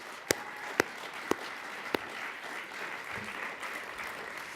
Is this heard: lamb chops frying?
no